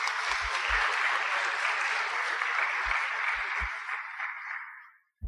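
A church congregation applauds warmly to welcome a family at a child dedication, a full steady round of many hands that fades out toward the end, with a few close, sharp claps and a brief bump at the close.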